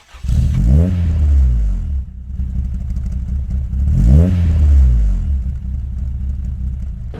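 A Toyota AE86 hatchback at Laguna Seca, its engine revving hard in two loud, close bursts that climb and then drop back to a rough, rumbling idle between them.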